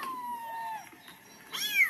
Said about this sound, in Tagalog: Nasa loob ng cellphone yung pusa.